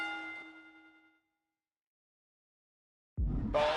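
Wrestling ring bell in the WWE 2K26 video game rings once with a clear metallic ding that fades over about a second, followed by silence and then a burst of crowd-like noise.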